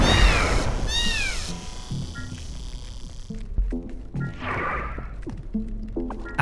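Odd cats in The Swords of Ditto meow in several swooping cries near the start, over a steady wash of game music and sound effects. Thumps and hits follow as the fight goes on.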